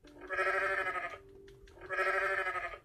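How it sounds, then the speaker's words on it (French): A goat in the video game Goat Simulator lets out two long, loud, quavering bleats separated by a short pause, heard clearly on their own. "Écoute la chèvre!"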